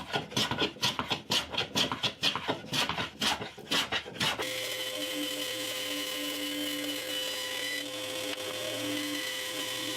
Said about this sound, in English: so I need to do a bit of planing.